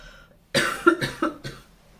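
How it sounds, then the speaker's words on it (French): A coughing fit: about four harsh, close coughs in quick succession, each burst sharp then trailing off, with no talking. "je vais avoir une quinte de toux sur votre tirage"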